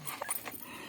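A dog gives a few faint, brief whimpering yelps, soft and close by, with a quiet background and no talking.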